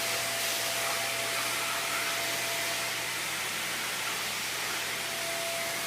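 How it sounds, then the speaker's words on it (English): A vacuum cleaner runs steadily with a broad, even hiss and a low motor hum and whine, close and unbroken, with no voices over it. "That's a good hoovering, isn't it?"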